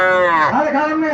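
A calf lows once at a cattle market in Cumilla, Bangladesh: a single loud, close moo that rises and falls in pitch, with market noise underneath.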